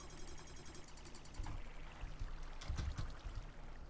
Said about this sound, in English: Was this little waterfall that was natural.